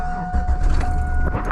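A 2000 Chevrolet Silverado engine cranking and catching, then settling into a steady close idle with a constant electronic chime tone over it.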